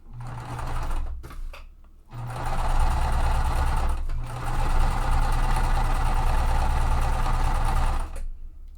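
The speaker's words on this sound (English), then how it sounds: "I'm going to sew both of these at once, so I'm not going to cut my threads." Sewing machine stitching die-cut quilt pieces, running steadily in long close bursts with brief pauses between seams, no talking.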